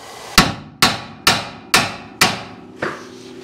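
Five sharp metallic hammer blows strike a stiff lower ball joint on a budget Camaro suspension, evenly spaced and loud, each ringing briefly, followed by a sixth, softer hit.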